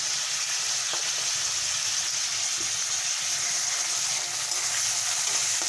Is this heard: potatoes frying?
yes